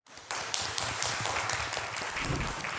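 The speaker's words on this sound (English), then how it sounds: "With a round of applause, let's welcome the next founder up." A live audience at a startup pitch event applauds to welcome the next founder. The clapping is dense and continuous, starting abruptly and holding steady for a few seconds.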